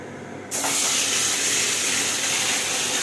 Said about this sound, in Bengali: মাংসটা এখন ভেজে নিচ্ছি।